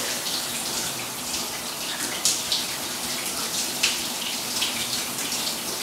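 Tap water runs steadily and close by as hair is rinsed out on a home wash day, a continuous broadband hiss with occasional brief splashes, no voices.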